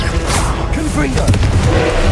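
Confringo blasting spell from Hogwarts Legacy going off as a booming explosive burst, loud and close, with a voice speaking over it.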